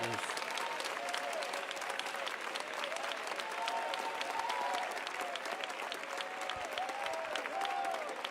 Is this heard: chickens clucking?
no